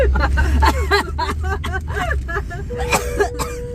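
Repeated coughing and throat clearing inside a taxi in Hanoi, a run of short rough bursts at close range with traffic rumble and some chatter in the background.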